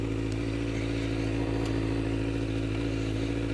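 A 2001 Suzuki GSXR 750 motorcycle engine runs steadily up close, a dense, even mechanical drone with a faint clatter and no speech.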